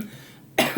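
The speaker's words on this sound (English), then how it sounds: "Of course, I'm going to start coughing now." A single sharp cough bursts out near the microphone at the end of a quiet, noisy pause.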